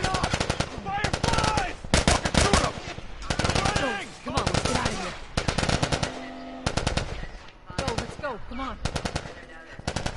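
Heavy automatic gunfire in The Last of Us video game, loud repeated bursts of rapid shots separated by short gaps, with voices speaking between volleys.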